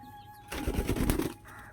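Pigeons flap their wings while eating from a hand: a short, close flurry of beating wings, about a second long, rising out of a quiet background with faint cooing and chirps.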